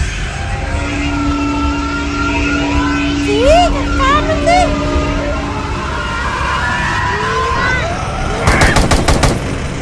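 In a zombie survival shooter set in Area 51, a short burst of rapid gunfire rings out near the end, following gliding electronic tones and alarm-like game effects.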